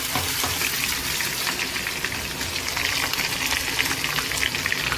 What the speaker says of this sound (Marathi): अद्रक, लसूण आणि मिरचीची पेस्ट घालूया. छान अशी परतून घेऊया.